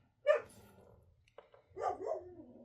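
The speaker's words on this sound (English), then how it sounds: "Sorry about my dogs barking" A dog barks sharply once at someone walking past the house, then after a pause gives a couple more barks and a whining yelp, fairly close with a quiet background.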